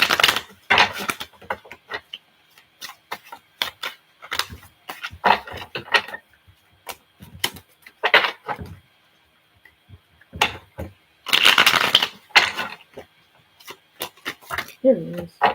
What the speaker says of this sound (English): So I'm shuffling here.